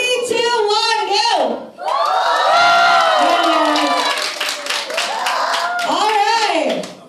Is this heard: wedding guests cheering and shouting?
yes